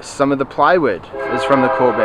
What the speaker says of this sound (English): Sorry about the train going by.